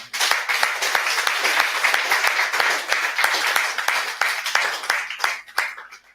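A church congregation applauding and cheering the Lord: a full, sustained round of clapping from many hands that holds steady for several seconds, then thins out and fades at the end.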